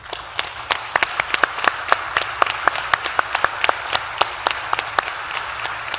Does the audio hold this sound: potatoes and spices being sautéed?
no